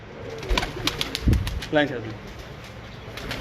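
Breeder pigeon giving a short, low coo with a brief burst of wing flapping, heard close by over a steady murmur of background noise and nearby voices.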